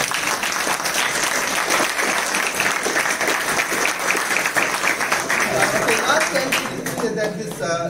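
Sustained audience applause at an academic lecture series fills the hall, a loud, even wash of many hands clapping that runs throughout, with a voice emerging faintly toward the end.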